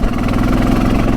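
Honda XR650 dirt bike engine pulling hard while riding, a loud, close, steady thumping drone with a throaty low pulse, heard alone for a brief moment.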